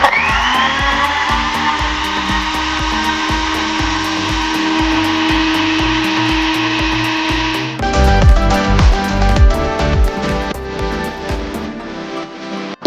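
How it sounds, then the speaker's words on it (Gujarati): A kitchen blender grinds milk, ice cream, mishri and thandai premix for thandai. It runs loud and steady, then its pitch drops and it churns more roughly near the end before cutting off. "અને હવે આપણે આને સારી રીતે પીસી લઈશું."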